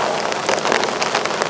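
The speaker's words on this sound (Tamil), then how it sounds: "மழை கொட்டுது" Heavy rain pouring down during an outdoor political rally in Tamil, a dense continuous hiss of drops striking surfaces, loud and close, with no voice audible over it.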